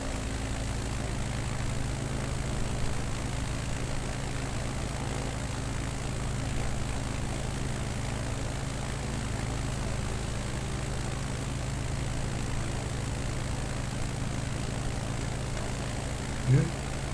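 A simulated bush plane in Microsoft Flight Simulator 2020 drones with a steady propeller engine hum that stays fairly even as throttle comes up, with one brief sharp blip near the end.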